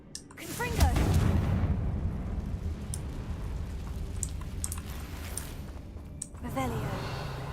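Confringo explosive spell cast in Hogwarts Legacy, a rumbling burst of noisy crackle that swells after the first second and lingers as a dense roar, with brief sharper hits near the end and a voice heard faintly in the mix.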